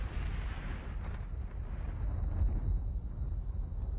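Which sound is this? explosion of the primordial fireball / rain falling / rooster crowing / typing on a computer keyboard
explosion of the primordial fireball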